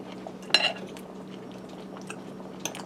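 Cutlery chinks against a plate as a garlic pork chop in creamy mushroom sauce is cut into, with one clear metallic clink early, a fainter one near the end and soft scraping between.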